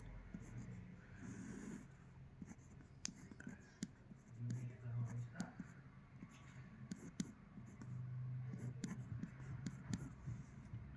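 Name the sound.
writing formula by hand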